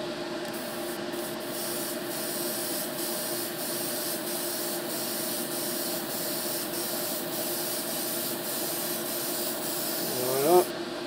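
A spray gun applies primer onto a car hood in light crossing coats, a continuous close hiss of atomized paint holding steady for about ten seconds before a brief surge at the end.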